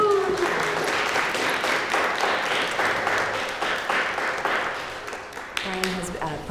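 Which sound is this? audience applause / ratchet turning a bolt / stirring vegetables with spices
audience applause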